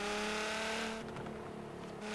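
A Nissan GT-R engine in the video game Forza Horizon 3 roars and revs steadily, its pitch holding then dipping slightly, loud and close throughout a short burst with no talking.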